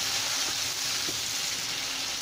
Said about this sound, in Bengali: এখন আমি এর মধ্যে টমেটোগুলো হালকা করে একটু ভেজে নিব।